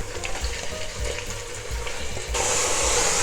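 Lamb pieces for an Old Delhi style mutton stew sizzle and crackle in a hot pot, a steady close frying hiss with a few soft knocks, growing louder and brighter toward the end.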